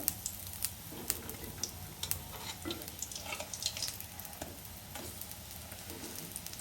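Lentil fritters fry in hot oil in a wok with a steady close crackling sizzle and occasional soft pops throughout.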